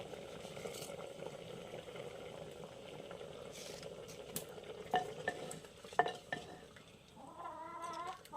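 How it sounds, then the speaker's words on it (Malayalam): A tempering of mustard seeds, dried chillies, shallots and curry leaves crackles softly in hot coconut oil for a homestyle curry, a faint steady sizzle broken by a few sharper pops and spoon scrapes near the end. "നമുക്ക് ഈ സമയത്ത് വറവിട്ട് കൊടുക്കാം വെളിച്ചെണ്ണ കടുക് വറ്റൽമുളക് ചെറിയ ഉള്ളി കറിവേപ്പില"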